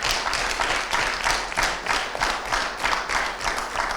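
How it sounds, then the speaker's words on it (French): At a children's spelling contest, an audience claps together in a steady, fairly loud burst of applause with rhythmic pulses, and no one talks over it. "Est-ce qu'on peut les applaudir tous ensemble?"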